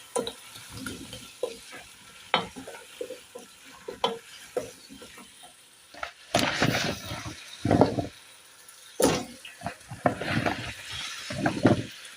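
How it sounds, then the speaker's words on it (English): Stirring arrowroot stew in a pot, with intermittent scraping and sloshing strokes over a soft simmering sizzle, close and fairly quiet with louder bursts of stirring. "Let us stir."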